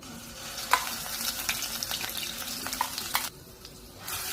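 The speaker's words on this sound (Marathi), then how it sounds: "तेल छान तापलंय, त्याच्यात टाकू आपण कांद्याची पेस्ट." Onion paste hits hot oil in a pan, giving a steady crackling sizzle with stirring scrapes and small pops, moderately close, before the frying noise drops off near the end.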